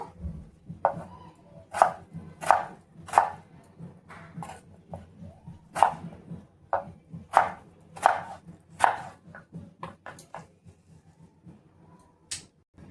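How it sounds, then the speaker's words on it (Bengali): A knife chops a tomato on a board in a home kitchen, giving a dozen or so sharp, close, irregularly spaced cuts over a low background hum. "তো এখানে একটা আমি টমেটো কেটে নেব।"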